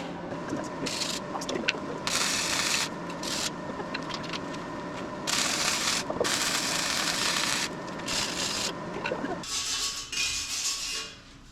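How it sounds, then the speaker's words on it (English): Steel being welded for a workbench, giving bursts of harsh crackling hiss that start and stop in irregular runs, fairly close, with no talk. "That's my last welding of the day."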